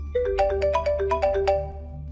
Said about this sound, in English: I woke up again to the sound of my phone's alarm clock blasting.